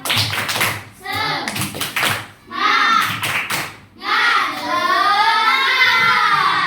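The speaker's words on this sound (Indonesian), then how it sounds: "Tepuk semangat dulu, biar semangat." Children clap together in quick rhythmic bursts, several short patterns separated by pauses, with young voices chanting along in a fifth-grade classroom.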